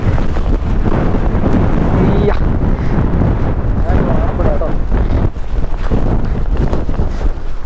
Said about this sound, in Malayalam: നല്ല കാറ്റാണ് പിടിക്കുന്നത്.